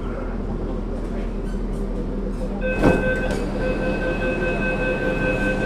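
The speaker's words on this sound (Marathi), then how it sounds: "इथून आता पुढं गाडी निघणार आहे, बघू शकता." Pune metro train standing at Nashik Phata station before departure, a steady low rumble of the train with a brief clunk midway followed by sustained electronic tones, likely a door-closing chime.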